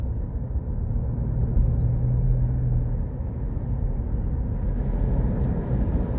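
A car driving along a road in Laos, heard from inside as a steady, loud engine and tyre rumble with no breaks; no talking.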